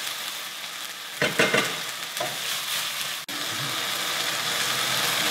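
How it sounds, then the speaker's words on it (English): White wine bubbling and sizzling as it reduces in a hot pan, a steady hiss throughout with a couple of brief stirring clatters early on. "reduce that down a bit. Boil the alcohol off."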